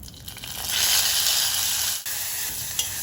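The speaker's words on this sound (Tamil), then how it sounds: "இப்போ நம்ம இடித்து வச்சுருக்கிற பச்சை மிளகாய், வெங்காயம் மசாலாவை சேர்த்துக்கலாம்" Crushed green chilli and onion masala dropped into hot oil, a loud close sizzle swelling into a dense hiss that holds steady, with one short dip partway through.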